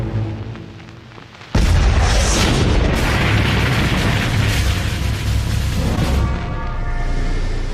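A V-1 flying bomb explodes in a sudden loud boom, followed by a long, dense roar that holds for several seconds before easing slightly.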